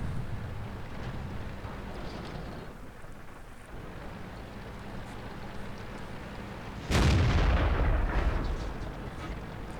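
A Chinese 112 heavy tank fires its cannon in World of Tanks, one loud booming shot that rolls off into a long rumble over steady engine and wind noise.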